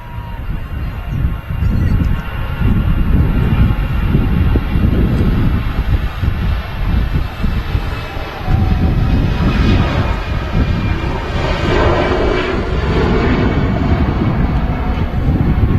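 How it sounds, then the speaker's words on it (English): Air France A320 airliner on its takeoff roll at Manchester Airport, a loud sustained jet roar that swells and holds with gusty wind buffeting on the microphone, steady and unbroken throughout. "the Air France has already started to take off roll"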